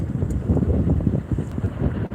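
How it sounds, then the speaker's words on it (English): Steady roaring wind gusting between 15 and 20 knots at a wildfire buffets the microphone in constant gusts, with a low rumble underneath and no voices. "the wind right now is gusting between 15 and 20 knots"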